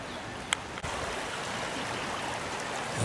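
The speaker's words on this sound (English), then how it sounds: "Here's where it enters the creek again." Overflow stream pouring into a rocky creek, a steady broadband rush of flowing water close by, with a brief splash or knock near the start.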